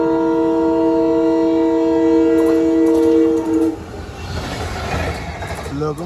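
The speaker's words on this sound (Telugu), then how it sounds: "రాణి కమలాపతి వెళ్ళే వందే భారత్ ఎక్స్ప్రెస్" Vande Bharat Express train passing, a loud sustained horn blast for several seconds followed by rushing, rattling carriage noise, heard from nearby.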